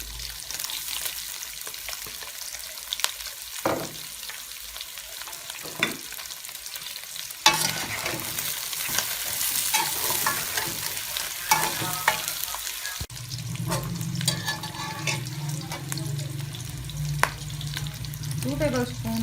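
Onions fry in hot oil for mutton karahi, sizzling steadily while a utensil stirs and scrapes the pan in bursts, close up, with a louder hiss as more goes in.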